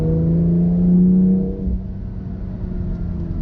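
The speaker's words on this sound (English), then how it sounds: "I like that you can hear the turbos doing their thing too" A 2019 BMW M2 Competition with a manual transmission pulls under load while its turbos spool onto boost. A close, steady engine drone carries a whirring tone that rises, then eases off.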